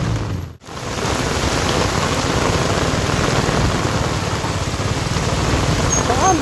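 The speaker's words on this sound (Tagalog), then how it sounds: "Biglang lakas yung ulan." Sudden heavy rain pours down as a dense, loud, constant hiss, broken only by a brief dropout near the start.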